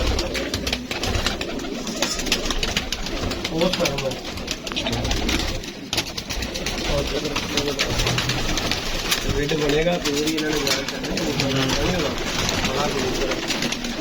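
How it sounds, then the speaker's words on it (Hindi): Pigeons coo in soft repeated warbles amid a busy background hum, while someone talks over them. "ये कबूतर है"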